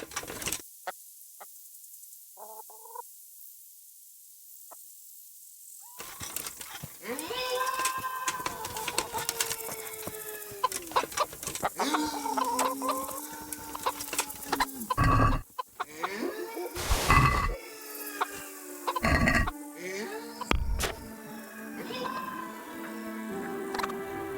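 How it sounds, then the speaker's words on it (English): Chickens cluck and squawk around a coop in the medieval game Kingdom Come: Deliverance, with repeated close, busy calls after a quiet opening and some other game sounds mixed in. "That's a chicken coop."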